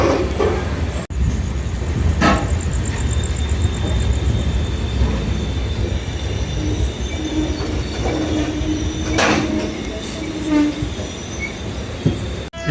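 A train passes on a multi-line railway near Secunderabad, its wheels rumbling loudly with metallic squeals, clattering bursts and sharp knocks over roughly thirteen seconds, close by and with no talk.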